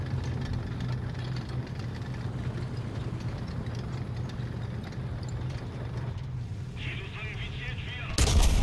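Tank cannon fire in War Thunder rumbles beneath a droning engine, with a sharp loud blast bursting out near the end; faint battle noise fills the background.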